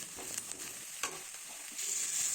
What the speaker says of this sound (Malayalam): നന്നായി മൂപ്പിച്ചെടുക്കണം സവാള നല്ലൊരു ഹൈ ഫ്ലെയിമിലിട്ടിട്ട്